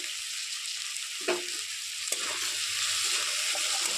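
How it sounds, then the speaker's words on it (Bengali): Chopped potatoes and carrots frying in a pan, with a steady sizzle throughout and a couple of brief scraping stirs from a spoon, close and moderately loud, no voices. "ভালো করে নাড়াচাড়া করে সবগুলো মিশিয়ে নিয়েছি"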